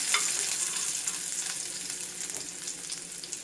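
Mustard seeds and small shallots spluttering and sizzling in hot oil for rasam, a steady close crackle with scattered pops and no talking.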